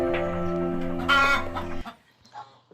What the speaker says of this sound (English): That's where we have also adult laying hens.